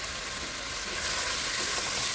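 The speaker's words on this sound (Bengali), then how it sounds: "মশলাটাকে দিয়ে ভালো করে আলুর সাথে কষিয়ে নিতে হবে।" Potatoes with a little biryani masala fry in a pan for egg polao, giving a steady, close hiss that grows slightly louder partway through, with no talk over it.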